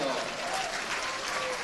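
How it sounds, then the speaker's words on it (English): Steady, dense applause from a stadium crowd at a national senior track and field championship, continuous and fairly loud throughout, with an announcer's voice over it. "a massive round of applause for Kate Field"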